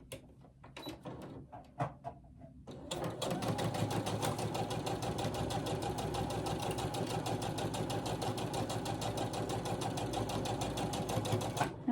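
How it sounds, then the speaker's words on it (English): After a few soft handling clicks, a sewing machine stitches quilt pieces a quarter inch across for a Tree of Life quilt block, running steadily with a fast close mechanical whir for about nine seconds without talk. "I'm going to sew across there 1/4 inch"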